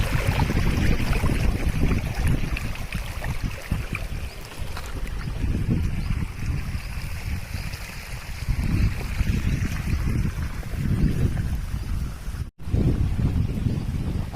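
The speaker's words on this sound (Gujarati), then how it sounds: "ને આ પાણી ચાલુ છે તલમાં" Irrigation water runs into a sesame field on a village farm, a continuous, fairly loud rushing and gurgling nearby, mixed with wind buffeting the microphone and a brief dropout near the end.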